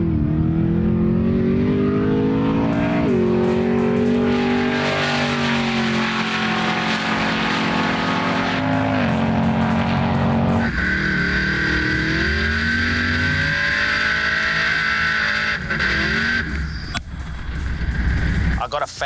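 A supercharged LSA V8 in a Holden VL Commodore, with a 1.9 litre Cadillac blower, diamond pistons and Callie's rods, revs loudly and continuously up close, rising and falling in pitch with a supercharger whine.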